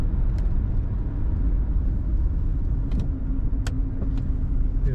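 A 1976 Oldsmobile Cutlass Supreme Brougham drives along with a steady low engine and road rumble heard from inside the cabin, plus a few faint clicks and rattles.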